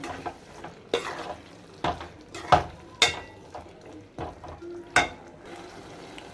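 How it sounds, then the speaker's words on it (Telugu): Curry leaves and green chillies fry in a pan for chicken bagara rice, giving a sizzle under repeated sharp scrapes and taps of the spoon against the pan, close and clear. "ఇప్పుడు దీని మీద కొంచెం కరివేపాకు అలానే పచ్చిమిర్చి వేసుకుంటున్నాం వీటిని కూడా బాగా కలుపుకోవాలి"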